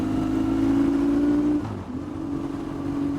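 A BMW 1150 GS motorcycle with a new engine runs at a loud, steady droning pitch, drops briefly as the throttle eases, then picks back up to a sustained note.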